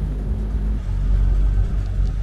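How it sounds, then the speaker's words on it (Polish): A boat engine runs nearby with a deep, steady rumbling throb that swells slightly and dips back, on a Galia 777 yacht at Mikołajki in the Masurian lakes. "Dobra, chwilę silnik powodzi."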